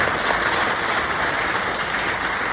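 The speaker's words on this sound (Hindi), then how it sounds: "हमारे सारे लीडर्स मिलकर एक बार जोरदार तालियां बजाएं हमारे सभी लीडर्स के लिए" An assembled group of leaders claps loudly for achievers at a target-winning celebration, a thick, steady patter of applause that rolls on evenly throughout, close and uninterrupted by speech.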